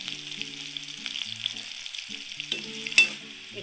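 Garlic and ginger frying in hot oil for a mustard greens and fish curry, a quiet continuous sizzle with faint stirring scrapes and a sharper utensil clink near the end, no talk.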